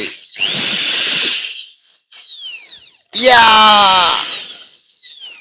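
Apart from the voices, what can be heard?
electric drill machine running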